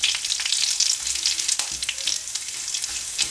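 Curry leaves sizzling in hot oil in a pan for Andhra-style prawn masala, a loud continuous crackling fry with sharp pops and a brief stir, no voices.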